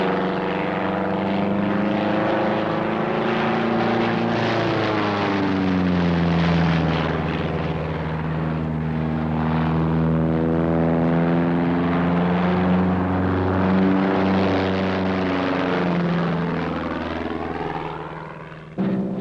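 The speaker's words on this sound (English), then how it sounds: "his Super Stearman, a 600-horsepower brute of an airplane" A 600-horsepower Super Stearman biplane roars through aerobatic flight, its engine drone loud and continuous, rising and falling in pitch as the plane maneuvers, then cutting off abruptly.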